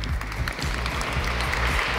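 Audience applause at a ceremony in Québec honouring a lawyer with a decoration, a steady wash of clapping over a low rumbling hum that runs throughout.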